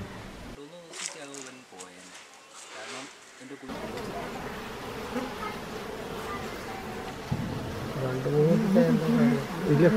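Honeybees buzz inside a woodshed in a dense, continuous drone that grows louder toward the end, with voices talking over the start.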